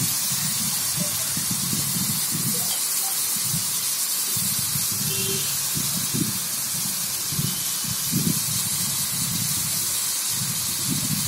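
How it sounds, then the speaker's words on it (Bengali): Chopped onions fry in hot oil, giving a steady, close sizzling hiss that runs throughout with soft bursts of stirring and scraping beneath it. "পেঁয়াজটাকে একটু ভেজে নিতে হবে"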